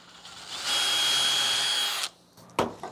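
A power drill bores into a wooden board at a steady high pitch for about a second and a half, then stops, followed by a couple of sharp knocks.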